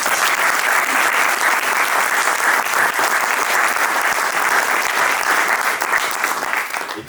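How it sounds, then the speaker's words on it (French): Loud, dense applause from a crowd at the closing session of a national conference on experience feedback, steady throughout and tapering off at the very end. "on peut de nouveau les applaudir"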